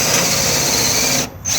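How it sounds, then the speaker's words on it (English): A power drill drives the corner steady of an Auto-sleeper Broadway FB caravan, its motor whirring loud and close in one continuous run with a brief dip near the end. "if you're lazy like myself, you can use a drill"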